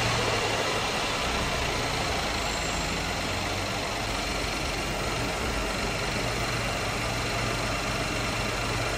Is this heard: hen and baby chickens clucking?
no